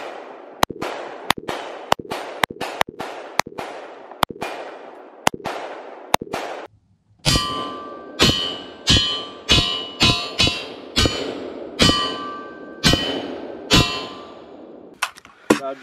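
Gunshots are fired at a forged aluminum wheel: a series of sharp, loud cracks, slow and evenly spaced at first, then after a brief pause a faster volley with bright metallic ringing after each hit.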